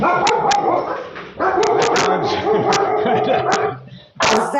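Dogs barking close by, a loud run of repeated barks and yips that pauses briefly near the middle and at the end, with a person speaking amid them.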